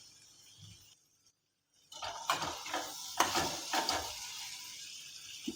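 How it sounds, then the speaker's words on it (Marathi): Crushed peanuts being stirred into green beans in a pan: a faint scrape and clink of a spoon against metal, a few soft strokes after a brief pause, with no talking. "याच्यामध्ये आपण नाश्त्याचे दोन तीन चमचे शेंगदाण्याचा कूट घालून घेऊ आणि हे चांगलं मिक्स करायचं"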